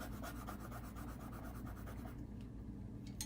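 Steady scratchy rubbing of a colored pencil on mineral paper, close and continuous, with a brief pause near the end before strokes resume.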